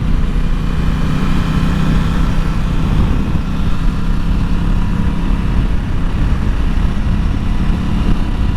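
A 2021 Aprilia Tuono 660 motorcycle engine drones steadily while riding, loud and continuous with wind rush throughout, no speech.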